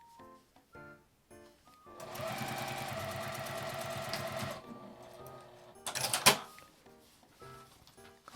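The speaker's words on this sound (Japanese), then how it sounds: "最後まで縫います。" Sewing machine stitching a fabric pouch seam with a zipper and D-ring, a steady rapid mechanical whir running for a couple of seconds amid quiet handling clicks, then a brief rustle of fabric.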